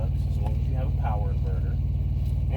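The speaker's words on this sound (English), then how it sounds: "APU running, which is keeping my batteries charged to run this APU" A semi truck's auxiliary power unit runs with a steady, pulsing low rumble that stays loud and constant while someone talks over it.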